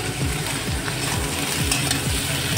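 Green peas and green chillies hit hot oil for a vegetarian mixed-vegetable curry and are stirred, giving a dense, steady sizzle with soft scraping, close and loud throughout.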